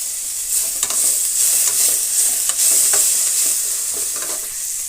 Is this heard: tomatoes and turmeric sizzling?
yes